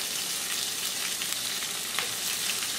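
Turkey pieces browning in batches in a skillet, a steady dense sizzle filling the pan close up, with faint scattered crackles and no talking.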